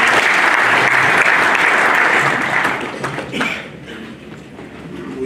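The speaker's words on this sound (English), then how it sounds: "Ladies and gentlemen, please give a round of applause." Audience applause at a Chamber of Mines Zimbabwe conference session, loud, dense clapping that fills the first few seconds and then thins and fades toward the end.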